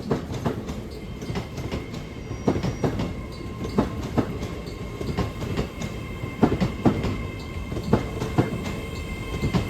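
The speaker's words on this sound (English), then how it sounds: "also arriving in is a terminating northern service from Edinburgh and from Carlisle" A Northern class 158 diesel unit, a terminating service from Edinburgh and Carlisle, rolls into Newcastle station. Rhythmic clickety-clack of wheels over rail joints repeats under a steady rumble, fairly close and moderately loud.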